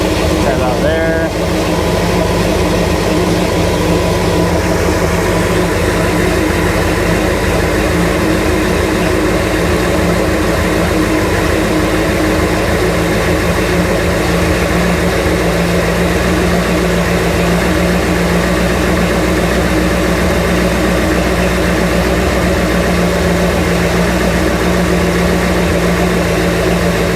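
A 1972 GMC 3500 wrecker truck engine idles nearby, a loud, steady low rumble with a constant hum that holds unchanged throughout, a brief clatter at the very start.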